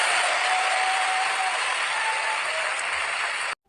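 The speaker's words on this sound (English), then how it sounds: "Clap. Okay, I told you to clap." An audience claps together in a dense, steady burst of applause that holds evenly for about three and a half seconds and then stops abruptly.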